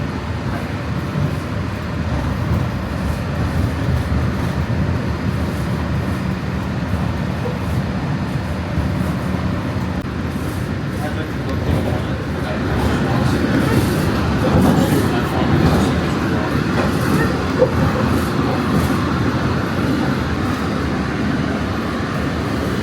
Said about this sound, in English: we got the Boilermaker Special monorail here